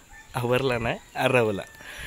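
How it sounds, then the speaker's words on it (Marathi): A rooster calls twice in quick succession on a morning in rural Konkan, each call loud and near, with a short gap between them. "बघा सकाळचा एक कोंबडा पण आरवला."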